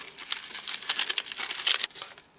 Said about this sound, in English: so I've got my piece of tin foil. I'm going to crumple it up